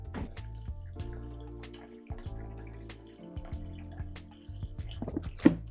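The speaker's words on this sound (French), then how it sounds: "ce que je vais faire, c'est que je vais arroser un petit peu." Water trickles and drips into a garter snake terrarium as it is watered, soft irregular splashes and droplets alone with no talk.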